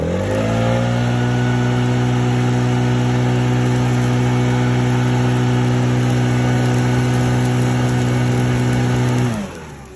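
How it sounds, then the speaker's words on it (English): A leaf blower roars steadily with a strong, even motor hum while blowing air onto a burning oak stump outdoors, holding constant and loud before cutting off abruptly near the end. "Now, just with the leaf blower,"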